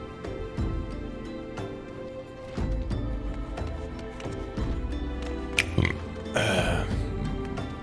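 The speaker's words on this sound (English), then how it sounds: "Belch." A game character in Final Fantasy XIV lets out a belch inside a pub, a loud guttural burst set over background music and other in-game effects.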